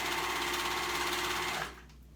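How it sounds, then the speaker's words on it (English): A sewing machine stitches the shoulder seam of an A-line dress, a steady close-up whir for about a second and a half before it stops and only faint room noise remains. "Gonna sew that shoulder seam."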